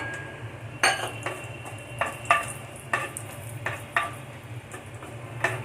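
Raisins fry in a pan over a low flame for a carrot and sago payasam, with a steady soft sizzle and a spoon clinking and scraping against the pan at irregular intervals.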